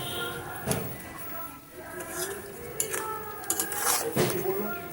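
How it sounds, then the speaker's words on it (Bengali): Mutton being stirred with chui jhal in a cooking pot, giving intermittent scraping and clinking of a spoon against metal, close and moderately loud, with scattered sharper knocks. "এইভাবে ভালো করে মিশিয়ে নেব"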